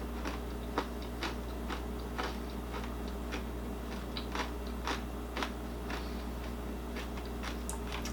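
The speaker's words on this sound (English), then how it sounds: "Taste the noodles, crunch the noodles." Crunchy no-bake bird's nest treat of noodles, peanut butter and chocolate being bitten and chewed close up, a steady run of dry crackling crunches over a low background hum.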